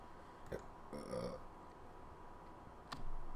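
A single short, low burp from a person, close and fairly soft, with small clicks and faint room noise around it.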